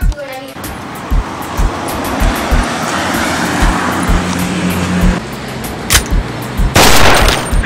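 Gunshots in a video game pop out as sharp, loud reports scattered over a rumbling engine-like drone, with a cluster of heavier shots toward the end.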